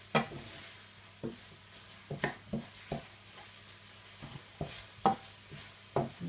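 Courgette spaghetti cooking in a pan over lowered heat, with a soft steady sizzle and a series of sharp scraping stirs from a utensil at irregular intervals, close and moderately loud.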